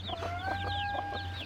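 Brooding hens sitting on eggs in a coop cluck in short overlapping bursts, close and fairly loud, over a steady low hum.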